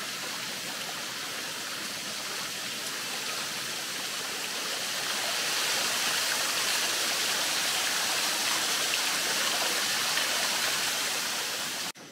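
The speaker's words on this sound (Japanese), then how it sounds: "昭和9年にできた人工の滝のようです。" An artificial waterfall built in 1934 at the Nihonmatsu castle ruins in Fukushima, a steady, loud broadband rush of falling water heard near and alone, swelling slightly midway through.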